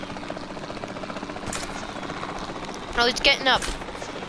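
Helicopter rotors chop steadily in Jurassic World Evolution 2, a constant rapid beating drone with a brief louder whoosh, while someone speaks briefly over it.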